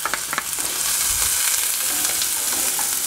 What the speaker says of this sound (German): wir fangen erstmal an und geben die Zwiebel mit in den Topf. Jetzt hört man es auch, dass es heiß genug ist.